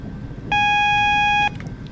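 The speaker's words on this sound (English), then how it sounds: "It's the AWS alarm to say that we've got a yellow in front of us." The AWS warning alarm in a Class 444 train cab in Train Sim 2020 sounds one steady, loud electronic tone lasting about a second, rising abruptly over low cab rumble and cutting off just as sharply.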